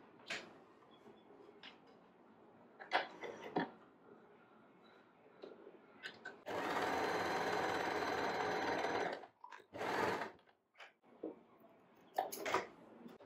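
A sewing machine stitches a straight fabric strip for handmade hair clips, running in a loud steady whir for a few seconds and then in a shorter burst, between quieter handling clicks and rustles.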